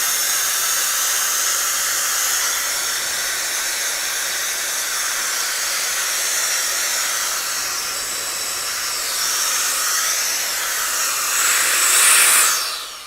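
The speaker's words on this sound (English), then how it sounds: "This is a vacuum, but I use it as a fan now." Vacuum cleaner run as a fan, a steady, close, loud airy whoosh holding for many seconds before rising briefly and cutting off.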